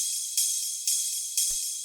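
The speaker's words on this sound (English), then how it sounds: "After that we have the ride," A ride cymbal in a house music track rings in steady hits about every half second, each a bright, sustained shimmer washing into the next, played alone and clear.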